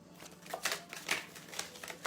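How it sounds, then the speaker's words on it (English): A deck of tarot cards is shuffled in a quiet room, a soft series of papery riffles and taps in uneven bursts, faint and close. "Let me put all of these back in and just take one more shuffle"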